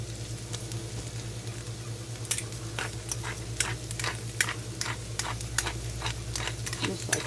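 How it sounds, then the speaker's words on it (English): Green beans and onions sauté in a pan, a steady sizzle with scraping stirs and clicking utensil taps recurring every half second or so, close and fairly loud. "saute them, mixing up the onions with the green beans"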